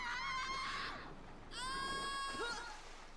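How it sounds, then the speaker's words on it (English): A high, shrill scream with strong harmonics, two drawn-out cries separated by a brief dip, close and loud, alone with no talk. "Oh my gosh, that scream though"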